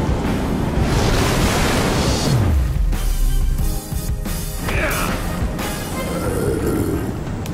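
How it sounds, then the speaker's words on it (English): Steady rushing water from a waterfall fills the Minecraft Story Mode game scene, a broad continuous wash that stays loud and constant, with a few brief swooshing game effects layered on top. "You hear that too, right? Almost sounds like a waterfall!"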